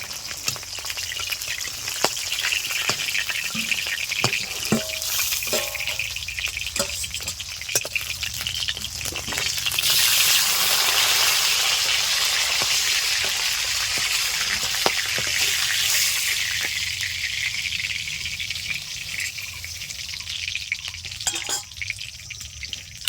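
Pieces of rita fish fry in hot oil in a pan, a loud, continuous sizzling hiss that swells toward the middle, with scattered close clinks and pops.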